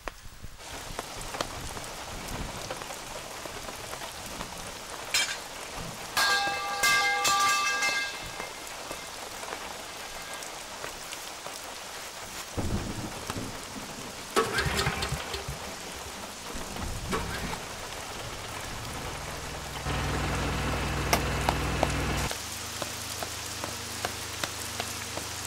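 Heavy rain pours down steadily in a dense, continuous hiss, with scattered louder knocks, clatters and shifting background noises breaking through now and then.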